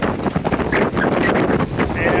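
Strong wind rips across a John Welsford Navigator sailboat in Duluth Harbor, a loud continuous roar of gusts buffeting the microphone, with rushing water and a voice under it.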